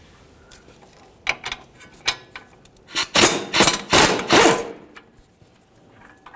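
Metallic clanks and ratcheting from a wrench on the 18mm caliper bracket bolts of a 2003-2011 Mercury Grand Marquis, a few sharp taps followed by a louder sustained burst of ratchet clicks, then quieter scattered clinks.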